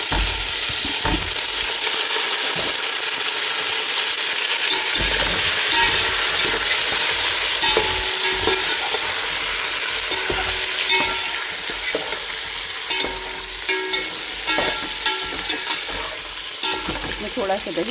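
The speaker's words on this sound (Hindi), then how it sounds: "ये दही डाल के अब इसको फ्राई कर रहे हैं।" Chicken with yogurt fries loudly over high heat in a pot, a steady close sizzle punctuated by scraping stirs and clinks of the spoon.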